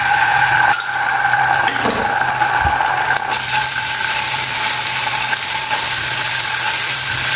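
Chilli flakes, pepper powder and tomato sauce being stirred into melted ingredients in a pan, heard as a steady loud sizzle with a few scraping stir strokes near the start.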